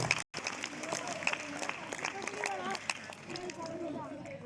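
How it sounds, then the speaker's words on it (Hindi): Scattered audience applause at an alumni gathering honoring a former school football participant, mixed with crowd chatter and voices throughout, fairly quiet and steady. "तालियां हो जाए इनके लिए एक बार।"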